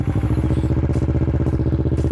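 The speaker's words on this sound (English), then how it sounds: "we'll listen to the exhaust, this particular one that we have here," A 2012 Kawasaki Ninja 650R motorcycle fitted with a full-system exhaust idles close by, giving a loud, steady, rapid pulsing throb from the parallel-twin engine, with no talk over it.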